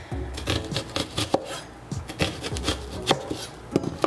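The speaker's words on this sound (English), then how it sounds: "Slice into it lengthwise." A knife slices a vegetable lengthwise on a cutting board, giving a quick run of crisp, close cuts and taps in an uneven rhythm with no talking.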